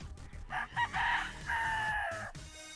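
A rooster crows nearby, one full cock-a-doodle-doo call rising and held, loud and clear over faint background noise.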